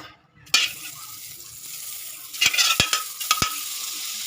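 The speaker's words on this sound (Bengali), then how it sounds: "এখান থেকে আমি বাটার দিয়ে দেবো কিছুটা" Butter sizzles in a hot wok on a gas stove while making a rice-free dalia payesh, a steady hiss rising after a sharp start, with a few clinks of a spoon against the pan and no voices.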